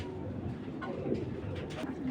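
Indian Giribaz pigeons cooing steadily up close, a continuous low murmur of overlapping coos with a few brief rises, no talk.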